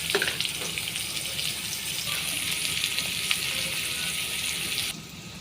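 Sliced pointed gourd (potol) fries in a pan in a village kitchen with a dense, hissing sizzle that sounds almost like running water. It holds steady until it cuts off sharply near the end.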